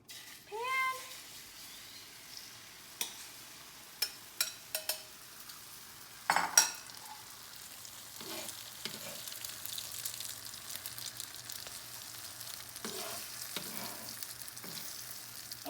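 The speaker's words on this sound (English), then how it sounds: "And then I'm dumping the egg mix onto the" Egg mix frying in a pan, a faint steady sizzle under scattered utensil clicks and one louder scrape, with a cat meowing briefly at the start.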